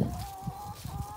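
Farmyard chickens and cockerels give a few soft, low clucks in a short, fairly faint burst, with no talking.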